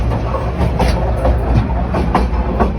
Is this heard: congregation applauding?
no